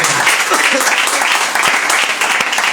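A church congregation applauds during a sermon, continuous loud clapping from many hands filling the space at an even level throughout.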